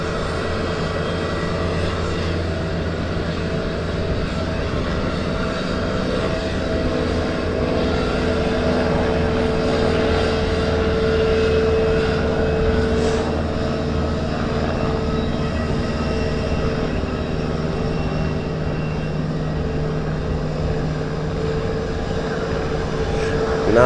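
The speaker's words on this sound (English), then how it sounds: "we'll catch some nice close-ups of the easyJet taxiing back around" easyJet airliner taxiing at Southend Airport, a loud continuous engine drone and whine holding steady throughout with no talk.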